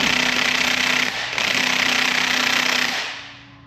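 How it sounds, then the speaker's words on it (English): An impact-type tool torques the crankshaft pulley bolt on a Ford 3.5 EcoBoost engine, a loud continuous rattling hammer lasting several seconds with a brief pause, then tapering off at the end. "Bolt went 90 degrees. We're done torquing the crankshaft pulley."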